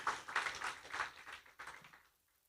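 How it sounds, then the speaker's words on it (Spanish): A church congregation claps and applauds in a steady dense burst, fairly loud at first and fading out toward the end. "dale ese aplauso al Señor"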